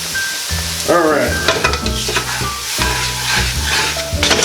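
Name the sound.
stirring Cajun roux with vegetables in a pot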